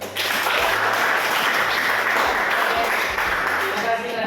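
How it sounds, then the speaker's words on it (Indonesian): A classroom full of students claps together in sustained, dense applause that stays loud and steady for about four seconds. "Baik, tepuk tangan."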